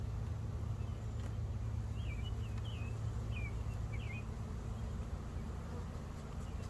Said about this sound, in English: Bees in the air, nobody getting stung.